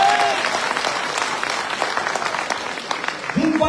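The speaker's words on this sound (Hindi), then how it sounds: "बजाओ ताली।" An audience at a business meeting claps in a dense, sustained burst of applause, close and loud, with a voice breaking in at the very end.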